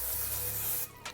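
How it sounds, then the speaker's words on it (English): Cooking spray hisses steadily from a can into a bowl, loud and close, then stops abruptly, followed by a brief soft rub or second short puff. "take a little bit of cooking spray, and we're gonna spray this down so it just doesn't, so it doesn't stick"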